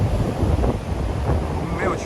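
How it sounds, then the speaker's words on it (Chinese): Large Pacific Ocean waves breaking on a beach at a seaside campsite, a steady loud roar of surf mixed with heavy wind buffeting the microphone throughout. "这海浪还真是很大"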